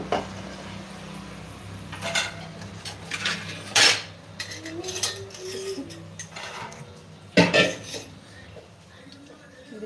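Curry is spooned into a dish with metal utensils, giving several sharp clinks and scrapes against the dish at irregular intervals, close and fairly loud, with a faint voice briefly in the background.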